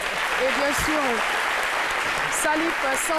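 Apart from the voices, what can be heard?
audience applause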